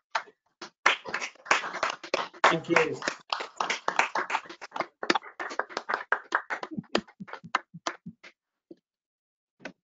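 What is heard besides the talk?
online meeting attendees applauding the speaker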